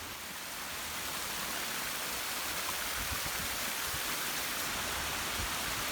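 Waterfall outside a hospital, 40,000 gallons per hour crashing down, heard as a steady loud broadband roar of falling water with no voices.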